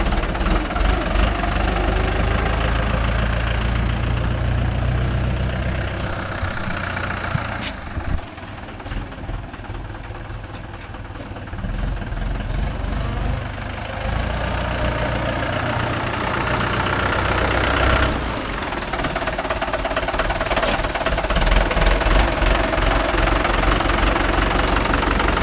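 A Mahindra 575 DI tractor engine idling nearby, a loud, steady diesel chug with a knocking low rumble that dips briefly and surges slightly as the tractor is moved out.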